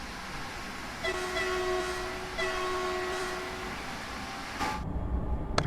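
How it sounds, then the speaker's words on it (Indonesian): An ICE high-speed train rumbles past in Train Sim World 3, a steady mechanical roar with sustained horn-like tones that fade and cut off abruptly, ending in near silence. "Kereta peluru kenceng banget ya"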